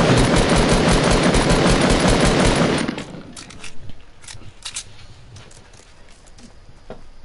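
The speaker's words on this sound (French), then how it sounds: "Il tire de l'autre côté, Léo, tu peux y aller." Rapid automatic gunfire in the video game Fortnite rattles loudly for about three seconds, then drops to scattered fainter shots and clicks.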